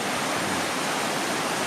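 Swift, forceful waters of the Asahan River at the Bedeng nature spot, a steady, dense broadband roar of rushing current heard close and loud throughout, with no voices.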